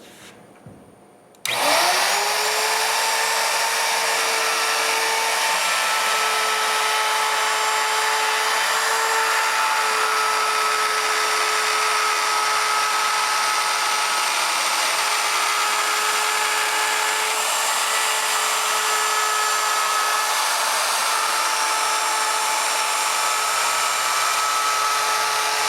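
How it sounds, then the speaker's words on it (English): A wood router roars to life after a short pause, then runs continuously at a loud, steady high-pitched whine for the rest of the stretch, with no talking. "When I get back to the beginning here, I will come off, turn the router off, and leave it there until that router stops moving."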